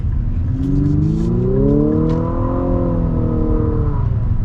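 A 2022 Infiniti QX55 with a CVT accelerating on the road, a smooth rising engine drone that swells and then eases off over steady road and tire rumble, heard from inside the cabin with no talk.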